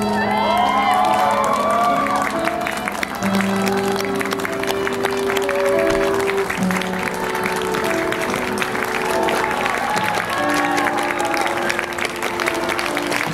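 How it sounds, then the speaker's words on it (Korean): A crowd of wedding guests applauds loudly and steadily as the bride enters a Korean wedding ceremony, with some cheering and background music running under the continuous clapping. "자, 우리 신부님 입장 마치실 때까지 더 큰 박수 부탁드리겠습니다."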